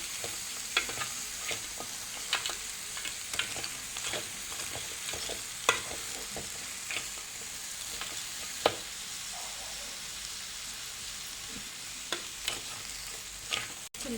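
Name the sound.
stirring crab with masala in pan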